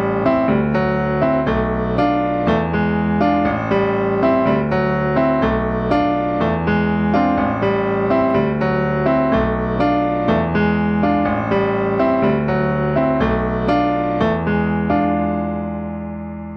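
Latin jazz piano playing a Cuban groove at full tempo, with a dense syncopated left-hand pattern under chordal right-hand figures, loud and steady throughout, with no talking, fading slightly at the end.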